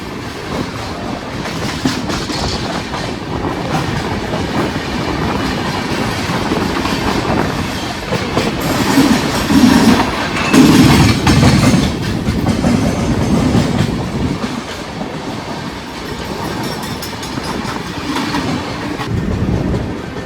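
A passenger train on the Howrah–Chennai line near Anakapalle rolls along the rails, loud and continuous, its rumble mixed with rhythmic wheel clatter and a faint squeal.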